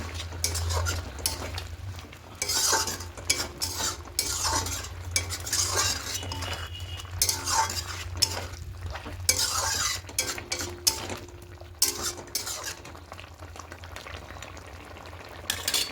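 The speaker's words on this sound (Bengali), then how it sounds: "খুব ভালো করে মিশিয়ে নেব" Steady stirring of chicken with coriander leaves in a pot, chicken cooked without oil, with continuous scraping and clinking of a spoon over a low simmering, bubbling hum, moderately close and uninterrupted.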